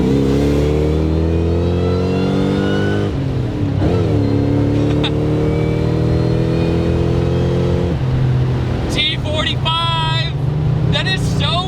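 Supercharged V8 in a Saleen S281 Mustang revving hard, a loud sustained engine drone with a rising supercharger whine, pitch climbing through gear pulls, with occasional speech over it.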